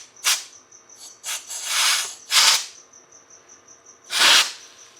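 Compressed air hissing in several short loud bursts of varying length, close up, with a faint steady electronic chirp in the background between blasts.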